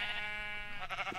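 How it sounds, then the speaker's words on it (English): Sheep bleating in a block-building survival video game, a single short wavering bleat, loud and close, alone without talk. "these sheep are so loud"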